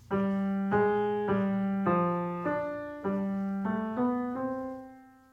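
Solo piano plays a Bach fugue passage from The Well-Tempered Clavier, with the subject in inversion set against the same subject in augmentation: a sequence of clear, evenly spaced sustained notes and chords, moderately loud, with no talking.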